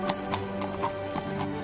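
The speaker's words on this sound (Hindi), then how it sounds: "मैं तुम्हें घोड़े की सवारी करना सिखाता हूँ।" Horse hooves clip-clopping at a steady walking rhythm while the horse is ridden, about six close, even hoof strikes over a faint tonal background, with no talk.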